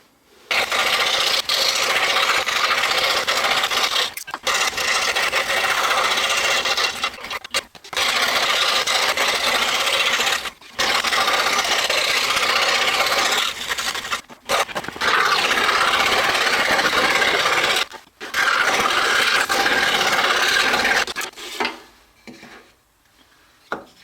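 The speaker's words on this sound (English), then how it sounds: "we'll take these over to the scroll saw and cut them out" A scroll saw cuts circles out of wood, its steady buzzing drone running loud and close in long stretches with brief pauses between cuts, then easing off at the end.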